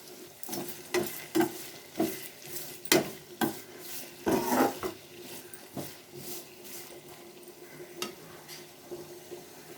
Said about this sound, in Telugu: ఇది కొంచెం బాగా ఫ్రై అవ్వాలి.